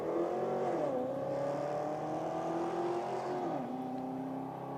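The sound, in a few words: Mitsubishi Legnum and Holden Commodore drag racing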